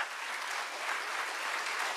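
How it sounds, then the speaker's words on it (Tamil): An audience claps at a college graduation ceremony, a steady dense wash of applause from many hands, even and moderately loud throughout, with no voices over it. "அப்ப அவர்களுக்காக நீங்கள் ஒரு பலத்த கரகோஷத்தை கொடுத்து அவர்களுடைய மகிழ்விக்கலாமா இல்லையா?"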